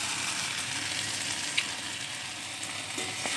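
Taro flowers and small field shrimp sauté in a pan, a dense steady sizzle close by with a faint clink or two.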